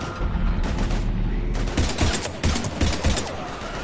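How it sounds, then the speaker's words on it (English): Heavy gunfire in the video game Mass Effect 3, a loud, dense fusillade of rapid overlapping shots that runs continuously, with a sharp change in texture midway. "We're taking heavy fire."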